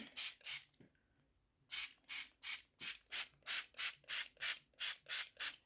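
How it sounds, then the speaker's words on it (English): Quick bursts of spray hiss from a pump bottle, two at first, then after a pause about ten more in a steady rapid rhythm, close and alone. "And I spray it all over my hair."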